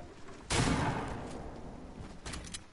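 Gunfire in the video game Fortnite breaks out as a sudden loud burst, followed by a sustained rumbling roar that slowly fades. A few more sharp shots sound near the end.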